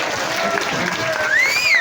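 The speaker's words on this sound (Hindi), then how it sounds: "तालियां जरा पीछे तक भी हो जाए" Crowd applause at a live comedy and poetry show, a continuous wash of clapping under a tonal whistle-like sweep near the end.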